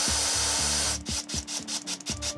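Rhythmic rubbing and scraping of sanding on wood, several strokes in steady succession, close and fairly loud with a tonal machine hum underneath.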